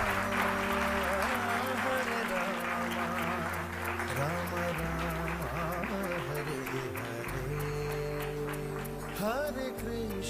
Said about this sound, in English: Big round of applause for Team Jai Jagannath.